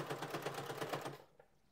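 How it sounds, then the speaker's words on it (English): A home sewing machine stitches the cuff onto a raglan sweatshirt, a rapid, even mechanical chatter running for about a second before stopping abruptly, close and alone. "And now I can go over to my sewing machine and I stitch it in."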